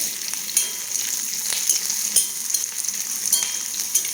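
Onion, curry leaves and masala fry in a pan for a roasted-coconut fish curry, giving a steady close sizzle broken by light scraping taps of stirring, with no talk.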